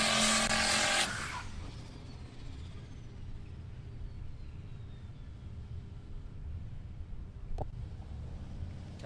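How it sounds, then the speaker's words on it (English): A supercharged Mustang drag racing at Palmyra Raceway: a loud burst of engine noise at the start, then a fading, distant engine drone continuing steadily. "Supercharged Mustang getting the job done."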